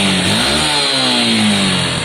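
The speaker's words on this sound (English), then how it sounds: "To show you how good of an engine this is" A Lexmoto motorcycle engine revs up loud and close, climbing in pitch, then easing back and holding a rough, buzzing drone.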